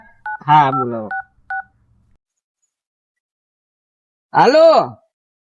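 A phone number tapped out on a keypad gives a quick, clear run of DTMF beeps up close, followed after a silent pause by a brief sighing vocal sound.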